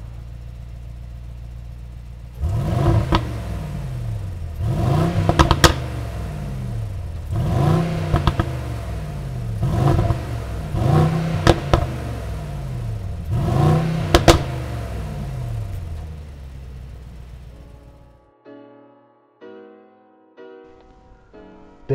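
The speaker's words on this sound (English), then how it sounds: "Coming lower, you have your AMG exhaust system, which features quad tips. Let's give that a listen" A 2021 Mercedes-AMG GLE 63S 4MATIC+ SUV with a quad-tip AMG exhaust, revved repeatedly in about six sharp blips that rise and fall, loud and close, before settling into a quieter idle with faint clicks.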